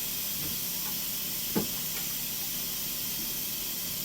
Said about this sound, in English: Look at that steam go.